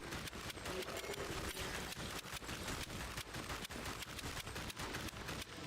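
Rapid light-gun gunfire from The House of the Dead Remake, a dense volley of sharp shots in quick succession, quiet and continuous throughout.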